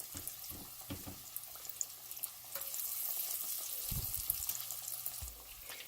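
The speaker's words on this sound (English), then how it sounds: "I'm just going to start by frying about 6 of my chicken wings" Chicken wings frying in hot oil, a fine sizzling crackle that swells as pieces go in, with a few clunks and soft stirring noises nearby, no talking.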